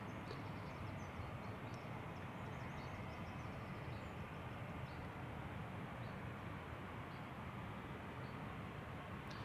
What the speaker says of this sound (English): Delta Airlines flight 133, going to Detroit